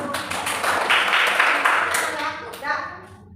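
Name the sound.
class clapping for group 1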